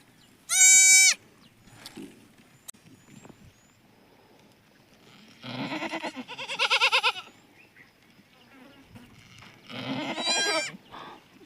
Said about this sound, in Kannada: ಆಡು ಮರಿ ಐತೆ ನೋಡ್ರಿ.